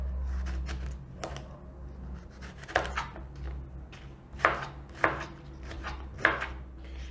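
A knife chops a peeled cucumber into small pieces with a series of sharp, irregular, close-up chops that repeat over about seven seconds against quiet background hum.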